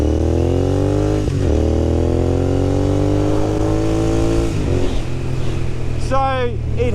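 Royal Enfield Continental GT 650 twin motorcycle engine revving loud and close, pitch climbing steadily toward the rev limiter, dropping briefly, climbing again, then a quick chatter of sharp rev changes near the end.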